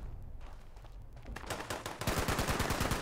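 Video game turrets fire rapid bursts of gunfire, starting faint and sparse, then building into a dense, loud, rhythmic stream of shots in the second half, with no talk.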